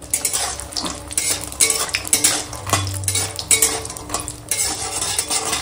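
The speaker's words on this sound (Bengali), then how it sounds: "ওই ঠান্ডা তেলে বড়িটা দিয়ে নাড়বো" A utensil scrapes and clatters against a metal pan while lentil dumplings (bori) are stirred in oil, a loud, close, irregular series of clinks and scrapes with faint sizzling underneath and no talk.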